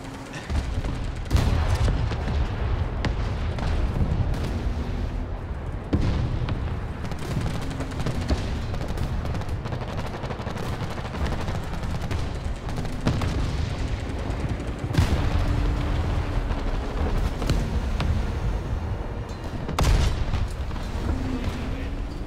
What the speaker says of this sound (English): I've also just been eating my artillery the entire time.